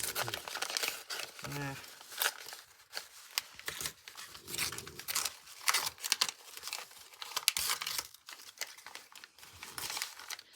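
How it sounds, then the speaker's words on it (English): Glued paper strips being torn apart by hand for a mixed media art piece, giving rough crinkling and ripping bursts close up, with a person talking at times between the tears. "let's just try and tear it and see what happens"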